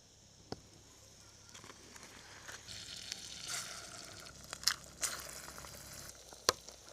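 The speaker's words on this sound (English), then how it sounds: "I am gonna melt butter in here first." Butter melts in a pan on a camp stove at an Everglades campground, giving a faint, steady sizzle with a few sharp clicks and taps over quiet outdoor background.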